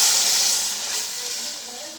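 Chicken stock poured into a hot pan of fried chicken and oil for yakhni pulao sets off a loud bright sizzling hiss that slowly fades over a couple of seconds.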